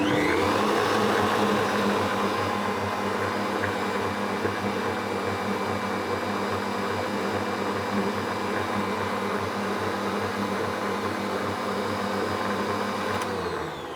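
An electric mixer whips caramel frosting in a bowl, giving a steady, loud motor whir that runs without a break for over ten seconds and then cuts off near the end, close by and without talking.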